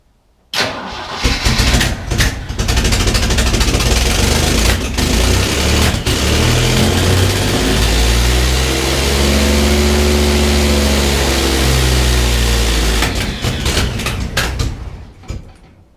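A 1973 Jeep CJ-5 engine, just after a partial rebuild, cranks and catches, then runs loud and close with rising and falling revs for about fifteen seconds before dying away, with no voices over it.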